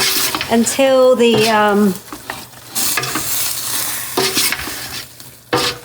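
Beef and pork ribs cooking with tamarind in a pot, heard as a constant sizzle with stirring and metal scrapes against the pot, and a voice speaking over it partway through.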